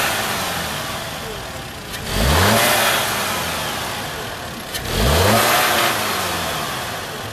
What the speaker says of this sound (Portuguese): Esse motor, ele tem um ronco bem abafado.